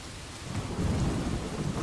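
Rain falls steadily alongside a low rolling rumble of thunder that swells partway through, a dense storm wash at moderate volume with no voices.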